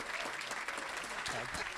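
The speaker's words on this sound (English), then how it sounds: "please, round of applause." Audience applause at a Deep Ellum Foundation community event, a steady wash of clapping from a crowd filling the whole moment at moderate level, with some voices mixed in toward the end.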